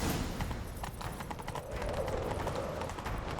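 Rapid hoofbeats of a horse pound along at a gallop in The Witcher 3: Wild Hunt, a steady drumming rhythm under a dense wash of game background noise.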